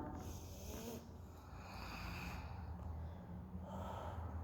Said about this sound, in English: I can enjoy these exhales to twist.